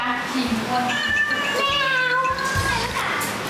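Cats meowing indoors at a grandparents' house, several drawn-out, rising and falling meows close by, heard over continuous background chatter and a voice.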